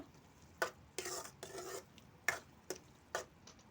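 Chopped tomatoes stirred in a pan for a Punjabi-style chicken curry: a few short, quiet scraping and clinking strokes of a spoon against the pan, spaced irregularly over a hushed background.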